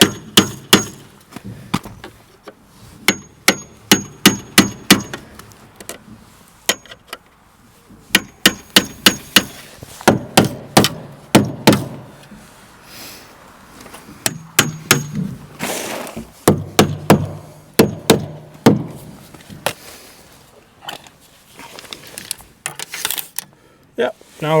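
A hammer taps vinyl siding down on a wall in a series of sharp, close knocks that come in quick clusters with short pauses between them, loud and crisp, while a person talks intermittently.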